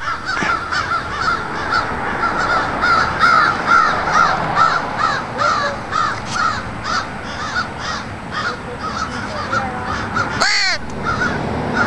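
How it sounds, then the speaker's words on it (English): Crows caw repeatedly and loudly close by, a steady run of harsh calls over a constant background rumble. "That's two crows."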